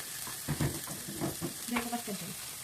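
Garlic frying in oil in a pan for a Filipino adobong kangkong with chicken dish, a steady sizzle with a few louder stirring bursts, close and alone.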